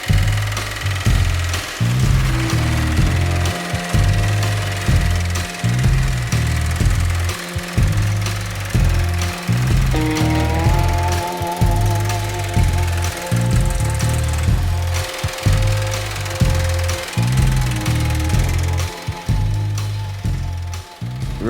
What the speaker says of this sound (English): Now I've got the dies in the machine here that are going to planish this weld